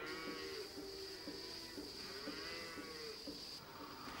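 Dairy cows moo in a farm setting with repeated low calls that recur about every half second, moderately close, over a constant mechanical hum.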